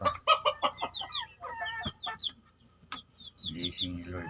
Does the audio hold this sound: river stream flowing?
no